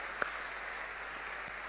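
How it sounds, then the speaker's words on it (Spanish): A church congregation applauds during a sermon; steady, distant clapping forms a dense, even wash at low volume with a faint thump near the start. "Hay de un aplauso a la palabra de Dios."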